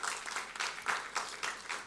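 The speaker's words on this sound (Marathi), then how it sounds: "त्यांच्यासाठी सुद्धा जोरदार टाळ्या होऊ द्यात" An audience at a business award night claps in short rhythmic bursts, fairly faint and distant, with no one speaking over it.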